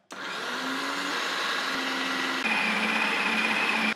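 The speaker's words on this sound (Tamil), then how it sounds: "கோதுமை மாவு மிக்ஸ் பண்ண போறோம்." A kitchen dough mixer with a kneading attachment working wheat flour dough for chapati, starting abruptly into a loud, steady motor whine that holds evenly, shifting slightly in pitch partway, with no voices.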